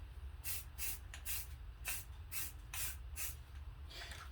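A rattle-can aerosol sprays paint onto bare-metal spots of a sanded 2004 Acura TL wheel, in a series of short, close hissing bursts with brief gaps between them.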